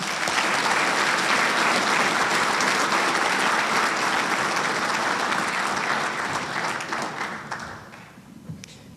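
A large audience at a Marine Corps Association Installations and Logistics awards dinner applauds in a dense, steady roar of clapping that holds for several seconds, then thins and fades away near the end.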